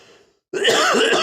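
A man with a cold clears his throat and coughs once, a short, loud, close burst after a moment of near silence.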